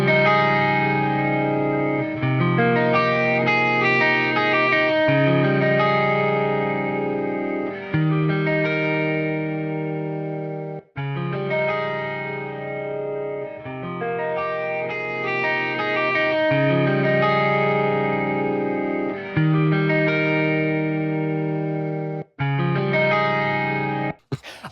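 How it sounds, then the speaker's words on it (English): Clean electric guitar played through a 4x12 Mega Cab impulse response blended with room-tone IRs, ringing chords and arpeggios with shimmering chorus-like sustain and ambient tail, steady and loud, broken by a few brief pauses, no speech. "let's hear what adding in a little bit of room tone does to your clean tones."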